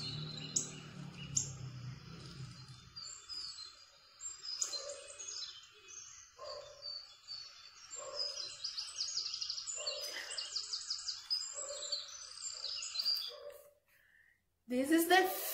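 Recorded bird song plays as part of an animal guessing game in an online English lesson: repeated high chirps and trills, moderately faint, ending abruptly with a brief burst of talk.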